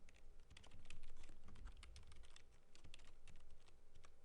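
Keys tapped in a steady run on a computer keyboard while a property name is entered into cash-flow valuation software, the clicks quick and fairly close, with no one speaking.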